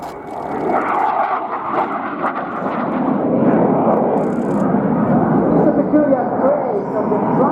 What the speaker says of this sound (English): At the very top, the aircraft will reach its lowest point, bringing the aircraft on the brink of stall.